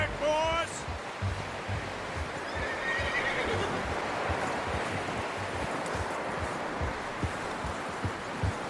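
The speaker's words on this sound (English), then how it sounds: "You should really tether that horse, Arthur." In Red Dead Redemption 2 on PS4 Pro, a horse neighs briefly at the start, then a steady rushing ambience with soft thuds continues underneath.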